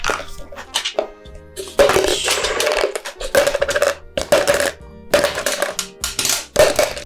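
Small metal ball bearings are poured and dropped into a container. They make bursts of bright rattling clatter, loud and close, with short pauses between handfuls.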